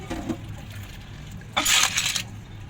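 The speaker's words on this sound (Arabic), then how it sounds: "هشطف بقى كده وهعيد عليه تاني." Clams and mussels rinsed under running water to wash out sand, a steady splashing stream that swells louder for about a second midway before settling back to a softer trickle.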